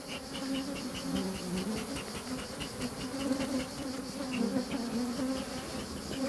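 Honey bees buzzing around a beehive, a dense, continuous swarm drone with shifting pitches, close and fairly quiet, with no talking.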